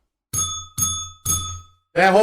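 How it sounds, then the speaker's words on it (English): A bright bell dings three times in even succession, each ring ringing out briefly, followed by a voice speaking. "Do we have the bell?"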